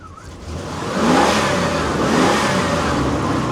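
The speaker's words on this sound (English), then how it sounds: "let me just give her a rev" A 1978 Cadillac Seville Elegante with a 5.7 L V8 engine revs up from idle, the engine note rising loud and close after a second and then holding a steady, throaty high idle.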